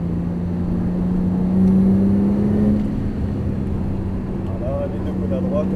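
A Porsche GT3 Turbo accelerates on track, its engine note a steady droning roar that swells then holds, loud and close, with someone talking over it.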